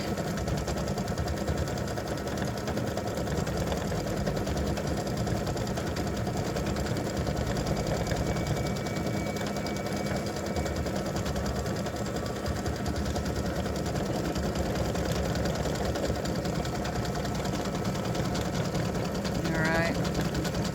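An embroidery sewing machine stitches freestanding lace candy cane earrings, giving a steady, close, continuous mechanical whir and rapid needle chatter that holds an even level throughout with no talking.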